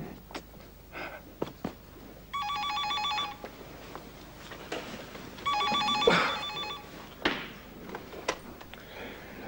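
Two bursts of a telephone bell ringing, each lasting about a second, with a gap between them, heard amid light household movement and no talk.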